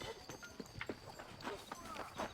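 Horse hooves clip-clop at a steady walking rhythm in the video game Red Dead Redemption, set in a town, layered with ambient game sounds and faint background voices.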